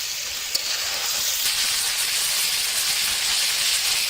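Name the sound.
country chicken meat frying in oil with cinnamon, cardamom, bay leaf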